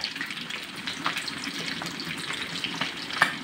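Banana heart and jute leaves fry in a pan with a steady, close sizzle and crackle, plus a few sharper pops and spatters scattered throughout.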